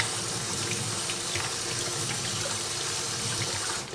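Tap water runs steadily over cherry tomatoes being washed in a kitchen sink, a continuous close splashing stream that holds for several seconds before easing slightly at the end.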